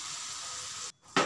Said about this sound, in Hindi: ऐसे रोस्ट कर लेंगे उसको, टोस्ट मिक्स करते हुए उसको पकाएंगे।